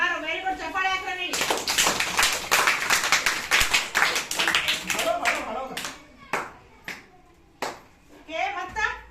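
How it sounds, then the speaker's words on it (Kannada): Children in a primary school maths classroom clap together in a burst of dense, rapid applause that tapers into scattered claps, with a teacher and children talking before and after. "ವೆರಿ ಗುಡ್ ಚಪ್ಪಾಳೆ ಹಾಕ್ರ ನೀ"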